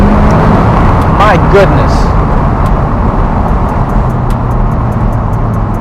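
A McLaren 570S sports car accelerates hard, its engine roaring loudly up close from inside the cabin while an occupant exclaims over the noise.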